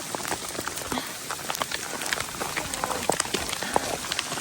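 Big hailstones fall on a steep mountain trail, a dense stream of sharp ticks and pattering strikes layered over a constant hiss, close and lively with a few louder hits standing out.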